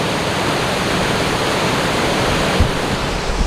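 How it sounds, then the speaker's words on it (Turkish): Water pours down Cehennem Waterfall in Turkey, a constant, dense roar of falling water that holds steady throughout with no voices. "Burası Cehennem Şelalesi adlandırıldığı yer aslında burası."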